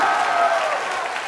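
A brief burst of audience applause for young orchestra performers at an all-city orchestra concert, a crowd clapping steadily then starting to fade.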